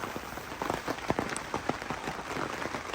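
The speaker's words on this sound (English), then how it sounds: "moderate to little rain, moderate light rain" Moderate light rain patters steadily on the fabric of a hot tent near a stove jack, dense irregular drops tapping close by with no voices.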